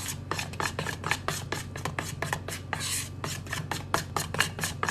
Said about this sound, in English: So keep mixing until it's got that consistency that you want.